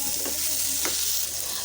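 Cauliflower and chicken bhaji, dusted with garam masala, is stirred and fried in a pan, giving a steady close sizzle with a couple of soft scraping strokes and no talking.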